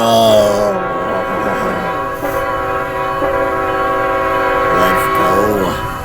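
Loud, sustained chords of a video-game train horn blare over the rumble of a passing train, with the horn swelling again near the end.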